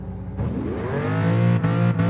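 A Pagani Huayra's engine revs hard in GT Sport VR, a loud, close, rising roar with layered harmonic whine that climbs steadily, with brief dips as it climbs higher.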